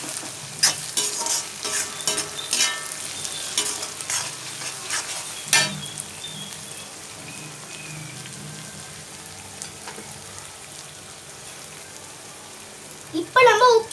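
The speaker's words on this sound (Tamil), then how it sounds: "இப்போ நம்ம கருவேப்பிலை சேர்த்துக்கலாம். நல்லா வதக்கி விட்டுக்கோங்க." Curry leaves sautéing in a pan for fish gravy give a close, steady crackling sizzle with irregular spatula scrapes. Clatter grows denser at the start and again at the very end.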